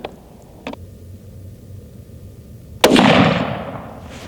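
Single sharp Remington rifle shot fired during load development at a range, a loud crack at nearly three seconds with a broad ringing decay after faint background noise and a couple of small clicks.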